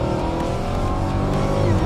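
A Hellcat Redeye muscle car engine roars loudly and steadily throughout, a dense, continuous mechanical growl with no pauses.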